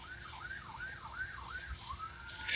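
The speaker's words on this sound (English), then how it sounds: "You could hear all the sirens now" A wailing emergency siren rises and falls repeatedly in the distance near a train accident, cycling in a steady rhythm over faint background noise.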